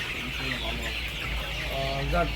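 Colour broiler chickens on a farm cluck softly and steadily at a distance, with a low constant hum underneath and a few faint voices.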